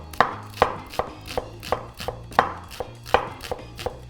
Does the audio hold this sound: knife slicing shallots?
yes